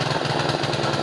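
Small mini capung hand tractor engine chugs steadily while plowing a dry rice field, a close, loud, rapidly pulsing single-cylinder rhythm with no voices.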